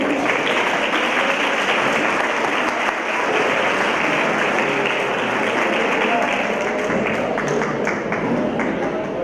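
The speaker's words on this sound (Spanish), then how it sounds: "Vamos a recibirlo con un aplauso." Sustained audience applause fills the room at a Spanish-language talk on Andalucía, a dense, steady wash of many clapping hands at even loudness for the full stretch, no voices rising above it.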